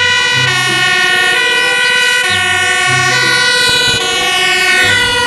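A toy fire truck's loud electronic siren wailing in repeating cycles, with a low honking tone pulsing beneath it, harsh and close.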